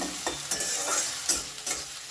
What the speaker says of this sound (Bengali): এটা ভালো করে একটু ভাজতে দিতে হবে